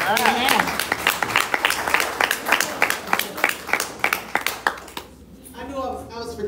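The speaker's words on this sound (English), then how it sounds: "let's get the Lord another hand clap of praise" Church congregation clapping in praise, sharp rhythmic hand claps in a steady beat, close and loud, stopping near the end as a voice begins to speak.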